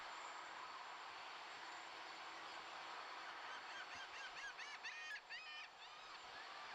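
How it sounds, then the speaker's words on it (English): Seagulls calling near the SpaceX Starship launch site, a cluster of faint, distant squawks rising over a steady wind-like background roar. "we're hearing some seagull sounds in the background"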